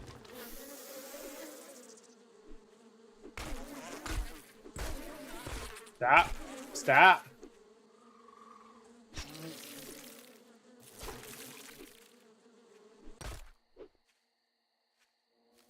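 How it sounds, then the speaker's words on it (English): Bees swarming and attacking in a video game, loud buzzing drones in repeated bursts, some overlapping sharp hits and a voice shouting over them before the buzzing cuts off. "trying to say before I got, brutally attacked by bees"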